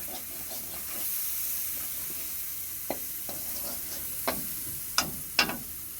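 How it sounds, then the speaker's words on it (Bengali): Spices sizzle and fry in hot oil for daal, with a steady soft hiss and a few sharp spits and crackles near the end, fairly quiet and with no talking. "মশলা আমার ভাজা চারদিকে তেল ছড়িয়ে গেছে"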